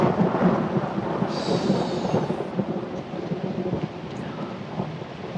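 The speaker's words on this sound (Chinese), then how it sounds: "这么大雷声不怕吗？" Loud thunder rolls and rumbles over steady heavy rain during a nighttime storm, a deep sustained crash that gradually fades with rain hiss throughout and no speech.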